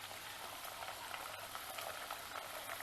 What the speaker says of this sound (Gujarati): તો સેજ એવો ચમચો ફેરવી આ ચલાવી લઈએ, જેથી ઢોકળી એકબીજા સાથે ચીપકી વધારે ના જાય.